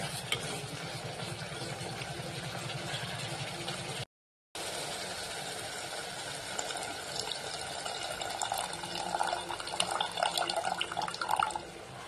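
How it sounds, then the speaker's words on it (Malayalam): Water being poured into a thick Kerala-style pearl spot fish curry simmering in a pan, a steady sizzling, bubbling wash with stirring, close and continuous apart from a brief cut. "ഇനിയിപ്പം ഇതിലേക്ക് ഞാൻ ആവശ്യത്തിനുള്ള ഇച്ചിരി വെള്ളം ഒഴിക്കുവാണേ"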